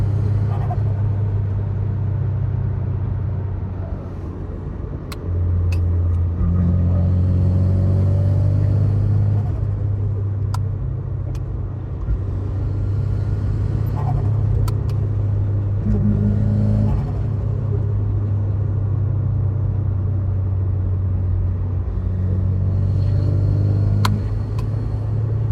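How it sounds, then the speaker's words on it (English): Nissan S15 with a Varex valved exhaust driving past and revving, a deep continuous engine rumble that swells and drops as the throttle opens, steady and close throughout with no speech. "Some driving shots here so you can hear the differences when the Varex is closed versus when it's open, and giving it a little bit of a rev."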